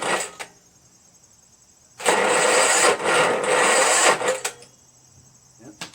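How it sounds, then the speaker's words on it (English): A Powermore by Zhongshen 420cc Craftsman lawn tractor engine with a scored piston and cylinder wall, primed with starting fluid, cranks loudly on its electric starter for about two seconds between short clicks and quiet stretches. "I'm going to plug in the starter and see if it turns over."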